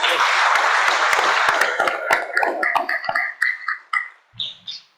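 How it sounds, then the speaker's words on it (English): Applause from attendees at a county council noon luncheon meeting, a full burst of clapping that breaks into scattered individual claps and fades out, ending with a faint brief murmur of voices. "Let's give them a round of applause."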